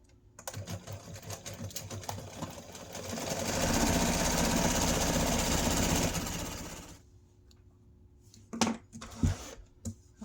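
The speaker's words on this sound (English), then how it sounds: "now we're going to sew it, and we literally are just going to sew around the square at 1/4 inch." A home sewing machine stitches a square chair cushion seam, starting with short bursts of rapid needle clatter, then a loud sustained run, then stopping with a few scattered clicks and handling noises near the end.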